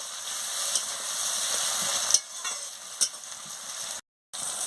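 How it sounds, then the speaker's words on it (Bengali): Chopped tomato is stirred into frying onions in a pan for a Bengali chicken curry, giving a steady close sizzle with light stirring scrapes, a couple of sharp utensil knocks, and a brief dropout near the end. "এবার আমি টমেটো কুচিটা দিয়ে দিচ্ছি। দিয়ে ভালো করে নাড়িয়ে নিচ্ছি।"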